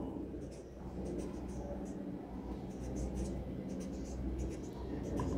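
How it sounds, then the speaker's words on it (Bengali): A pen writes a word by hand on paper during a class, faint scratchy strokes in short bursts over low room hum. "এখানে আমরা লিখব কুড়িগ্রাম"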